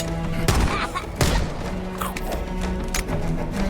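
Pistol shots in Halo: Campaign Evolved gameplay, a few sharp reports with thuddy low impacts over a dense bed of game sound effects and music, loud and close.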